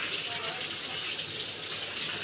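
Water runs steadily from a hose or tap onto garden plants, a soft continuous hissing splash that stays even and fairly quiet throughout.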